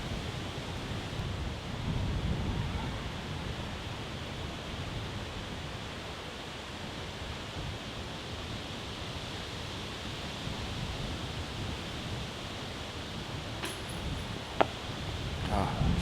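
Strong wind gusting across an open disc golf course during a European championship round, a steady broadband roar that persists throughout, with soft voices faintly underneath.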